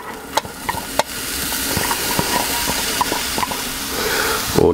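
Onions and bacon frying in clarified butter in a cast iron pan for bratwurst hot dogs, a steady close sizzle with a few sharp clicks and scrapes of stirring, no talking.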